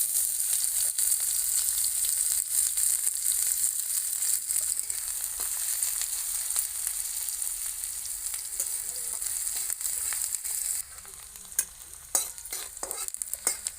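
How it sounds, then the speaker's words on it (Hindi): Chopped onion and ajwain frying in hot oil for radish kachori, a loud, continuous sizzle with stirring scrapes, easing to a quieter crackle near the end with a few clinks. "प्याज कटी हुई डाल देते हैं"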